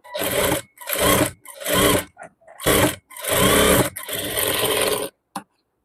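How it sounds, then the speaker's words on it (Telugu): A sewing machine stitches a lining piece onto the neckline of a layered frock, running in about six loud, close bursts of roughly half a second to a second each, separated by short pauses, with a final brief spurt. "ఇక్కడ ఒరిజినల్ పీస్ మీద లైనింగ్ పీస్ అనేది ఈ విధంగా పెట్టుకొని మనము నెక్ అనేది స్టిచ్ చేసుకోవాలి."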